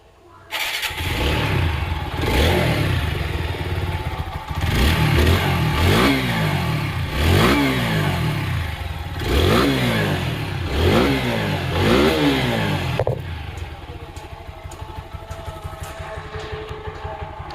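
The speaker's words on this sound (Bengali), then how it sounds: "দেখাবো আপনাদেরকে বাইকটির সাউন্ড কন্ডিশন" A second-hand, roughly ten-year-old Apache 4V motorcycle engine starts and idles close by, then gives about seven sharp throttle blips rising and falling in turn before shutting off, leaving quieter background noise.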